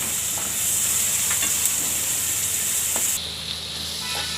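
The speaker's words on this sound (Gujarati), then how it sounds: "ડુંગળીને આપણે ઘડીક વાર તેલમાં તળવા દેવું." Onions fry in hot oil for a potato and cowpea curry, giving a steady, close sizzle that drops to a softer hiss near the end, with no voices.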